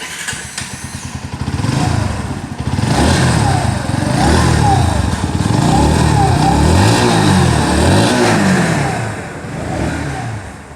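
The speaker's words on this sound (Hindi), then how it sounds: "इसकी इसकी जो एग्जॉस्ट साउंड है वो भी मैं आप लोगों को सुना दूँ" Exhaust of a running 125cc motorcycle with an underbelly exhaust, a steady close idle that rises into repeated throttle blips and revs, loud and alone, easing off at the end.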